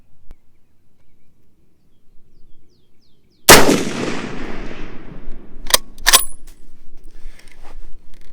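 A single sharp, loud rifle shot from a James River Armory 1903A4 firing 175 grain match ammunition at a 300-yard range, with a long decaying rumble and a couple of quick metallic clicks of the bolt afterward.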